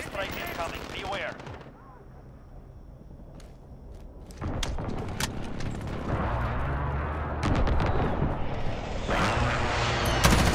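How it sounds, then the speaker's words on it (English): Gunfire and heavy explosive blasts from an allied airstrike in the Call of Duty: Modern Warfare video game, loud and continuous with bursts of rapid shots and thuds over rumbling booms, with brief game voice callouts. "Allied airstrike incoming."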